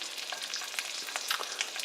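Duck magret fries in hot fat in a casserole, a quiet close crackle of fine pops and spits over a steady hiss, with no talking.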